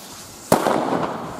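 A German D-Böller firecracker goes off in a single sharp, loud bang, followed by a second of crackling, decaying rumble, with no voices.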